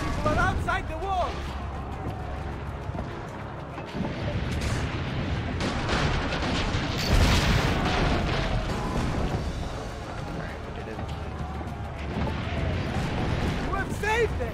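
Cannon fire and booming blasts in the video game Assassin's Creed Brotherhood, heavy explosive hits recurring amid a noisy battle soundscape, with game voices speaking over the action.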